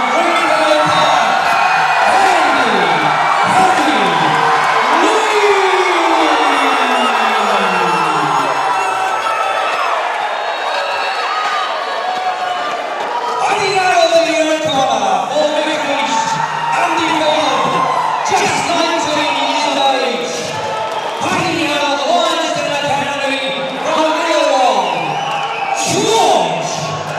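A crowd at a fight event cheers, whoops and yells loudly and continuously for a fighter, with shouting voices layered over a steady roar the whole time.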